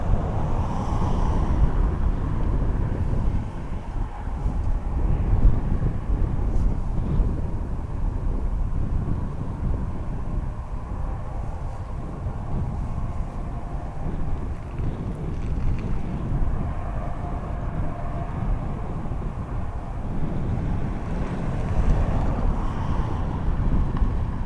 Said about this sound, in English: Another ATR taxiing down behind me.